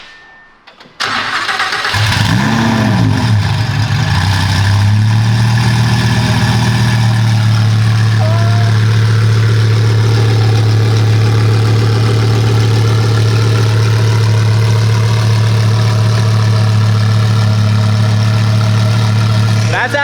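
Twin-turbo Lamborghini V10 fires up and settles into a loud, steady idle, a deep droning rumble holding for the rest of the clip with a brief rev at the start.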